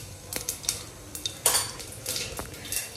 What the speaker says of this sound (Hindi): ये मैं इसमें हींग जीरे का छौंक लगाऊंगी